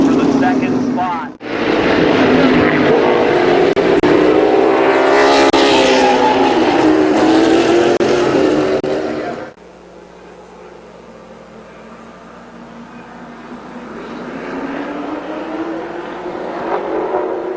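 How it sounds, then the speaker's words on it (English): Race cars roar around the oval at Columbus Motor Speedway, their engines swelling and fading in a loud, sustained drone that drops sharply to a more distant, quieter rumble partway through. "Jeremy Dennis racing for the second spot"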